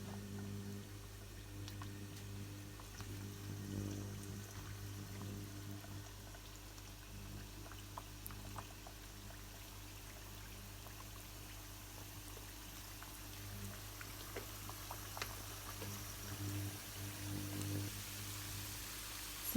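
Vegetable samosas deep frying in a pan filled with plenty of hot oil, giving a steady soft bubbling and sizzling hiss with faint crackles, heard close and alone.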